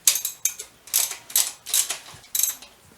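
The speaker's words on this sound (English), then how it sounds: "Each of them take a 10mm socket to remove." A 10mm socket ratchet clicks in several quick bursts while bolts come off a Kawasaki Vulcan 800 air filter casing back plate, with close, crisp, rapid ratcheting separated by brief pauses.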